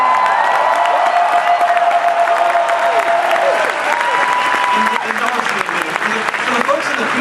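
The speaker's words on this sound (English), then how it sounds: "not just applause and cheering" A convention audience at a Star Wars Celebration 2015 panel roars with loud, sustained applause, cheering and whoops, dense clapping filling the hall with occasional shouted tones riding on top.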